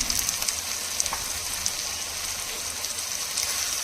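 Tomato puree fries in oil in a pan for a spicy egg snack, giving a close, even sizzle and fine bubbling crackle with small ticks of stirring and no talk.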